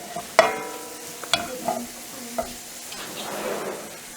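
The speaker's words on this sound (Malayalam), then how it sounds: "ഇതിപ്പോൾ ഒരു സൈഡ് ഫ്രൈ ആയി വന്നാൽ തിരിച്ചിട്ടിട്ട് മറ്റേ സൈഡും ഫ്രൈ ആയിട്ട് ഒരു ഗോൾഡൻ ബ്രൗൺ വരെ ആക്കിയിട്ട് ഫ്രൈ ചെയ്തെടുക്കാം." Unnakaaya, a Kerala plantain snack from Kannur, frying in hot oil, with a soft continuous sizzle broken by a few sharp clinks and stirring knocks near the start, moderately close.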